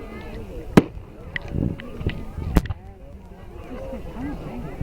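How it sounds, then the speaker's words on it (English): Bonfire Night fireworks go off outdoors as two sharp, loud bangs and several softer pops, over crowd chatter and background talk. "This is an amazing fireworks, like paradise."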